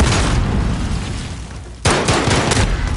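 A grenade goes off in a Call of Duty match: a sharp, loud boom cuts in suddenly, followed by a crackle of rapid gunfire.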